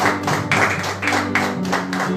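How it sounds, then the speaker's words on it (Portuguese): A church congregation applauds during a teaching service, dense rhythmic clapping in waves that swell and ease, with a sustained musical tone beneath. "Aplauda o Senhor em nome de Jesus."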